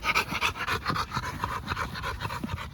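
Rapid, steady panting from a young dog destined for bite work, close and fairly loud, with quick rhythmic breaths running through the whole stretch and no talk.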